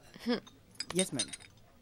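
Glasses of whisky on the rocks clink together in a toast, with a few bright taps close by and voices speaking around them.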